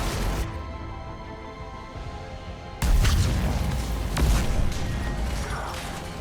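Cannons in the Mass Effect video game powering up: a mechanical whirring build, then a sudden heavy boom-like surge of rumbling, clanking machinery that carries on loud and full.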